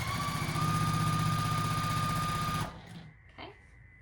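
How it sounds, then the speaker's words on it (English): A sewing machine stitches quilt block pieces with a steady, close, rapid mechanical whir that runs for over two seconds. It stops abruptly and leaves faint handling sounds. "I sew up to the pin,"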